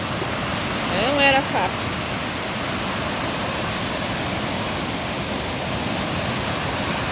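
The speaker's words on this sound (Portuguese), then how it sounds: "Mas é assustador esse barulho d'água." Loud, continuous rushing water roars during a heavy storm with strong wind, a steady broadband wash filling the whole stretch, while someone speaks briefly near the start.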